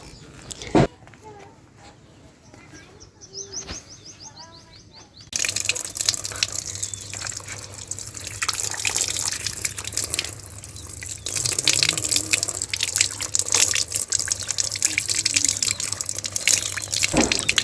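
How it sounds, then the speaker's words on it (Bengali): Tap water runs while hands and face are washed at a parent's rural home in Bangladesh, a steady close gush that starts a few seconds in and continues, with faint voices in the background. "এখন হাত মুখ ধুয়ে একটু ফ্রেশ হলাম"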